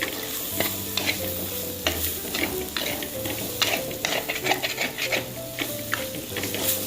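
Coriander powder and chili masala sauté in a pan on low heat for a coconut-milk sardine curry. A dense crackling sizzle continues throughout, broken by repeated scrapes and stirring taps of a spoon, close up and with no talking.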